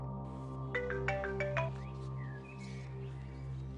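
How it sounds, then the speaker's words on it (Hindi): A mobile phone ringtone chimes a quick melodic run of bright tones, then fades, heard close and clear over a steady low background hum. "राम भाई, भाई का फोन"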